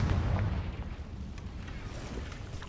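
A Confringo spell in the video game Hogwarts Legacy lets off a dense, rumbling burst of explosive noise. It holds steady and loud for a few seconds, with no voices over it.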